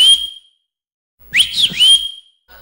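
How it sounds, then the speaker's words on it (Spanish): Eerie whistling in the dark: a single sharp held note, silence, then a rising and falling multi-note whistled phrase, close and clear with nothing else around. "siente un silbido espeluznante"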